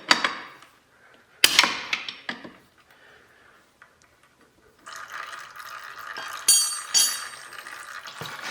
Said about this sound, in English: the oil is going to start draining out of that one